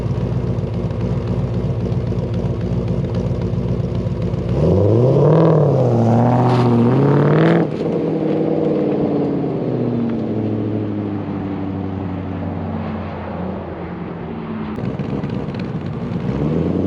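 Stock Audi R8 V10 passing by with revs capped at 3,000, a loud swelling exhaust note that rises and peaks mid-pass then fades into a steady receding drone, with wind noise throughout.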